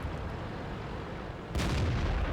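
A KV-1 tank's main gun fires in a video game, one sudden deep boom that rises out of a steady engine rumble and then carries on as a loud, broad roar.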